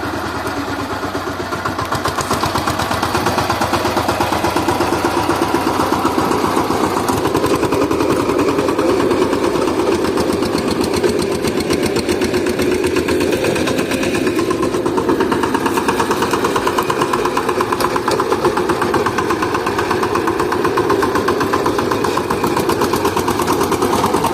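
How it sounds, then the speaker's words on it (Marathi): A farm tractor engine runs continuously at close range in rainy-season fields, a loud steady rattling chug with rapid mechanical knocking throughout, no voices. "ट्रॅक्टर आणला"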